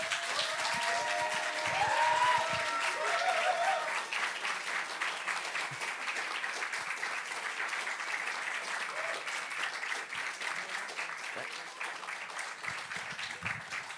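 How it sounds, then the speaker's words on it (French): A French evening audience applauds a YouTuber's arrival on stage with a dense, sustained round of clapping that starts loudest and holds steady. A few faint voices sit beneath it. "Je vous demande d'applaudir comme il se doit Arcade."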